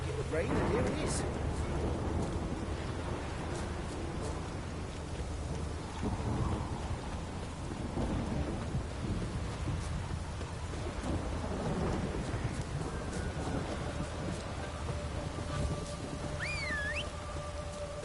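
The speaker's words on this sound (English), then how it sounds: "Looked like it would rain, and here it is." Steady heavy rain with low rumbling thunder rolling throughout in a video game, a dense continuous wash of sound with occasional faint tones over it.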